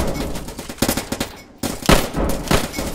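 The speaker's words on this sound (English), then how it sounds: "God, machine guns are annoying" Bursts of rapid machine gun fire crackle in the Roblox Trenches game, several close, loud volleys separated by short gaps, with no talk over them.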